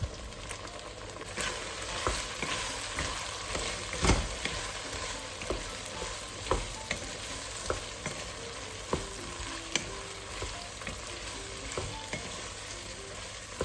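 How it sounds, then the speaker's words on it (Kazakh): Celery stir-frying in a pan for Uyghur fried lagman (tsomyan): a steady, dense sizzle runs throughout, with light scraping and clinking of the spatula as the pan is stirred, close and moderately loud, with no talk. "Келесі сельдерейді салатын боламыз. Тағы да 10 минуттай қуырамыз."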